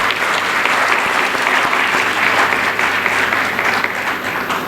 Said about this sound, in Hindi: इनके लिए एक बार जोरदार ताली कर दीजिए आप।